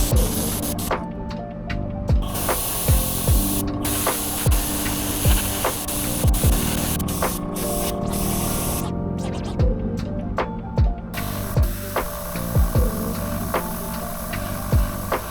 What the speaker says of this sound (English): This is where I started doing some freehand airbrushing of the lines that are going to form the pattern on the side of this bait.